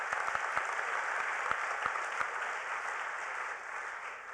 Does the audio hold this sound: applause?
yes